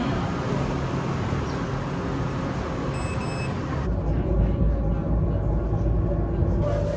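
Steady low rumble inside a tram in Kaohsiung, Taiwan, with brief electronic beeps, then the motor hum deepens as the car starts moving; voices murmur quietly.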